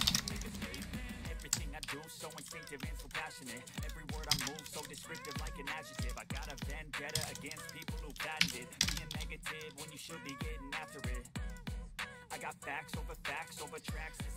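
Fast, steady clicking of keys on a computer keyboard as text is typed in, close and continuous, with a voice talking now and then.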